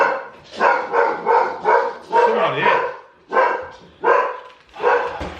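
Several dogs barking in a house, a rapid series of loud, close barks and yips in a steady rhythm, with a voice speaking briefly over them.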